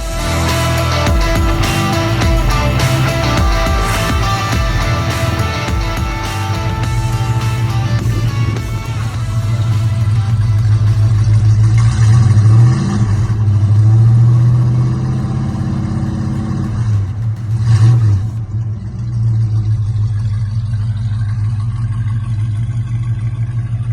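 A 1971 Plymouth Road Runner V8 with an Accurate Exhaust system, loud and close, idling with a lumpy burble and rising into repeated revs before settling back, with no talk.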